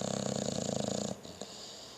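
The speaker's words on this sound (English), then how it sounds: "He's not even sleeping, he's just snoring." An overweight dog snores while awake, a rapid run of rough, rhythmic rasping pulses close up for about a second, then breaking off into quieter room noise with a faint snuffle.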